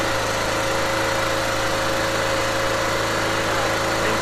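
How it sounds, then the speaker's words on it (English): A Dirty Hand Tools tow-behind brush mower engine (2018 model) with electric start runs steadily at close range, giving a constant droning hum with no break or change for the whole stretch. "Right here is your control box, where you can start the mower up."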